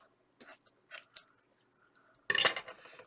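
Scissors snip through a piece of craft material for an Easter junk journal cover, a single sharp burst of cutting close by after a few small handling taps.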